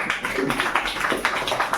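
An audience at a student award event keeps clapping with irregular, overlapping hand claps at moderate, even loudness.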